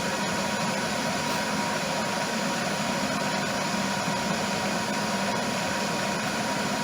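A Harrison lathe runs steadily in a workshop, giving a continuous, even mechanical hum with a faint whir and no breaks or speech.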